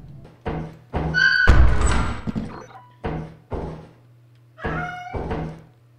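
An in-game cat meows in Lethal Company, with several short, sharp calls in irregular bursts over a low steady hum and occasional thuds.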